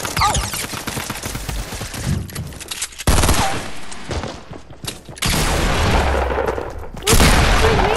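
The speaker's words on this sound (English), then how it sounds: "he kept on shooting at me" Fortnite gunfire plays in dense, loud bursts of rapid shots and blasts, close and punchy, with short gaps between volleys and voices talking over the action.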